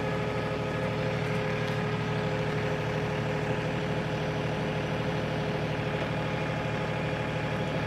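A tractor engine runs steadily at 1500 RPM with the PTO engaged at about 430 RPM during corn planting, the tractor showing 765.8 hours; a loud, constant, close drone with no talking.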